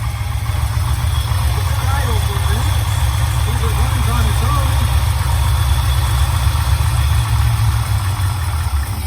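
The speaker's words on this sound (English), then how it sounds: "All right, we're about ready to start her up now. Okay. All right, let's see what happens. Fires right up." A 1969 Camaro V8 with a newly installed carburetor runs steadily at idle, a loud, continuous low engine rumble close by for the whole stretch, with a voice speaking over it.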